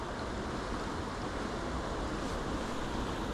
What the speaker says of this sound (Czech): Tady se ta voda teda brutálně točí.